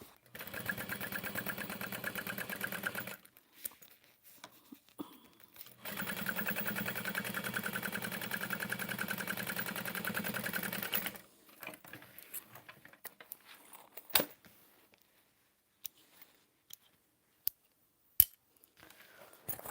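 A sewing machine stitches fabric slowly while a bag is sewn, running steadily in two long bursts with a pause between them, then falling quiet apart from a few sharp clicks and handling noises.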